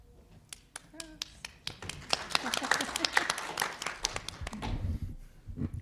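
An audience at a book launch event for a small press claps. The applause is scattered, moderately loud and uneven, swells for a few seconds, then fades out.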